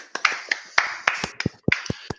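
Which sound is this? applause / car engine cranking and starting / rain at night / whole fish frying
applause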